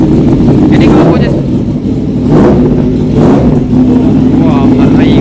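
A Yamaha R1M motorcycle with an SC Project exhaust is revved hard and close, giving a loud raspy roar that swells in several bursts. Someone talks over the engine.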